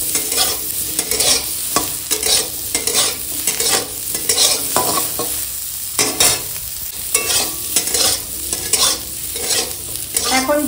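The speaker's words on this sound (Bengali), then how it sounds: "ফুলকপি আলুটার সঙ্গে ভেজে নেবো একসঙ্গে" Cauliflower and potato, steamed earlier with turmeric, fry with whole cumin seeds in a pan, a sustained sizzle broken by repeated scraping strokes of a stirring spatula, close and fairly loud, with no talk.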